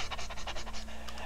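A dog pants rapidly and steadily, close up, in Resident Evil 4, with a faint low hum underneath and no talking.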